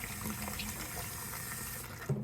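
Tap water runs steadily as a fire safety item is rinsed out with Dawn dish soap at a sink, a continuous close splashing rush with a brief louder burst near the end.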